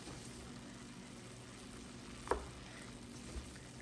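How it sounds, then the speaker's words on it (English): Ground meat and onions fry in a pan with a constant soft sizzle, interrupted once by a brief clatter of a utensil against the pan. "grill your onions with the meat"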